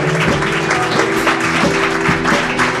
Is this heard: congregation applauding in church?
yes